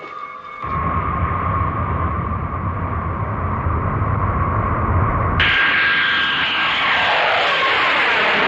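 Airliner engines heard from the cabin as a steady loud roar and hum during flight, shifting abruptly into a brighter, higher rushing noise as the plane lands at Hong Kong.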